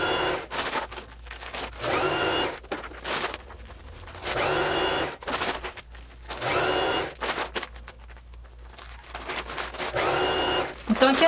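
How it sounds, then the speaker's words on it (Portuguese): Sewing machine stitching a shopping bag made from a bakery flour sack, running in repeated bursts of whirring with short pauses between seams, fairly close and steady, with no talking. "E aí eu dou sequência na minha costura."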